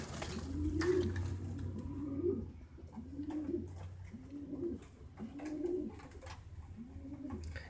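Pigeons cooing in a loft, a series of low, rolling coos repeating roughly every second, close by over a soft background hum.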